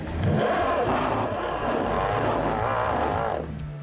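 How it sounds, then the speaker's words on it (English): A Suzuki Vitara 4x4 stuck off-road revs hard as its rear wheels spin on recovery tracks, a loud, steady engine roar held for several seconds before easing slightly at the end. "The rear wheels clearly scrap the tracks, but the weight in front holds tight"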